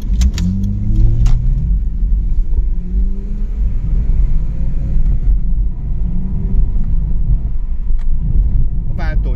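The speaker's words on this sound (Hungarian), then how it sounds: "rálépünk a gázra, akkor az a kellemes durozsolás, az ott van a háttérben mindig" BMW 320i Touring rear-wheel-drive car accelerating, a steady low engine drone and rumble heard from inside the cabin, with a voice talking over it throughout.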